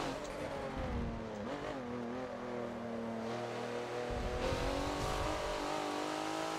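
Forza racing game car at the Hockenheimring short track, engine note rising and falling steadily as the throttle is gently applied into a corner, loud and continuous with shifting harmonic pitch and faint tire noise.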